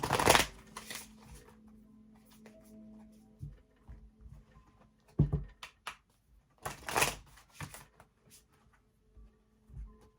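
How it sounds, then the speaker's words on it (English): Oracle cards are shuffled in a few brisk riffling bursts separated by quieter handling and soft taps, close and moderately loud, with no speech. "We're going to end this reading with some oracle cards."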